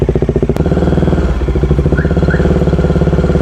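A Bajaj Dominar 400 motorcycle engine runs close by with a loud pulsing idle, then revs up into a faster, rising chug.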